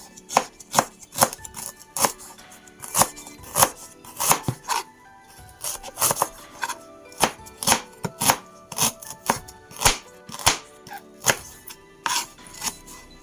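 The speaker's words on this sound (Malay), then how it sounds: "Juga lengkuas pun dihiris halus" A knife finely slices galangal on a board while cooking Malaysian singgang fish: sharp, close, regular chops in a steady rhythm with no talking.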